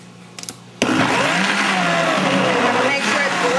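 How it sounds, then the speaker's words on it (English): A blender runs on high, whirring a flan de queso mixture with a loud, steady, close motor roar after a couple of brief clicks as it starts. "I'm gonna go ahead and blend it on high."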